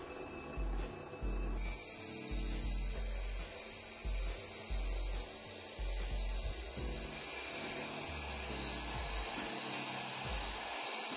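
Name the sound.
Turbo Max 7 concrete grinder grinding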